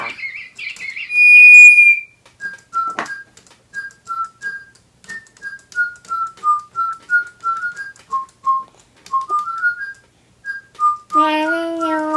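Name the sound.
toy whistle making Digibirds pet birds sing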